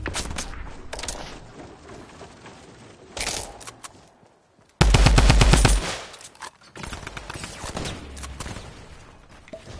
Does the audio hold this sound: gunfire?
yes